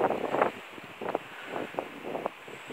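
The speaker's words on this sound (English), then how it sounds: "It's really windy." Strong gusts buffet the microphone in a steady roar on a woodland walk towards Altar Rock near Bingley, rising and falling in waves with no one speaking.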